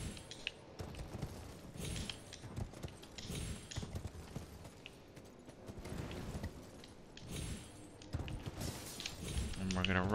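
Horse hooves clip-clop at a steady gait while riding in a video game, with a voice talking over the hoofbeats and a light jangle of tack.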